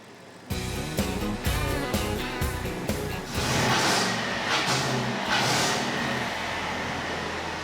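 A repaired 5-litre V8 car engine starts up after a moment of quiet, then idles and revs several times in quick bursts before settling into a sustained, fuller roar, recorded close and fairly quiet overall.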